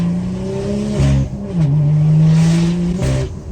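A BMW M4 accelerates hard, its engine note rising and dropping as it shifts through gears, loud and close throughout with brief revving surges.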